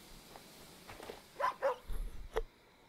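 A dog in the video game Superbrothers: Sword & Sworcery gives a few short, fairly quiet barks and yips spaced over a couple of seconds.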